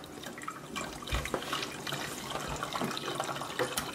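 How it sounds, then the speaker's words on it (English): Vinegar poured into water in a plastic bottle during a balloon experiment, a steady splashing trickle of liquid with faint handling knocks, fairly close and without talk. "Pour the vinegar into the water."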